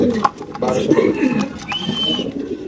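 Racer pigeons coo at a pigeon farm, soft rolling calls close by and partly buried under someone talking.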